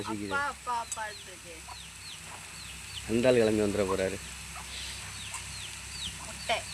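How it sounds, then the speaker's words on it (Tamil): Hens cluck in short bursts nearby, with a louder run of clucking in the middle, while a person talks over them. "கோழி வீட்டுக்குள்ளே போய் தின்னுகிட்டு இருக்கு"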